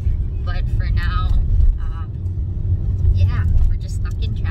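Cars crawl in slow road traffic on Oahu, Hawaii, heard from inside a vehicle as a steady low rumble, while people talk over it in short bursts.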